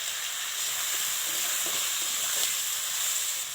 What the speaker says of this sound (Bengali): নাড়াচাড়া করতে হবে বন্ধুরা নাড়াচাড়া করে এবারে পরিমাণ মতো লবণ দিয়ে দিতে হবে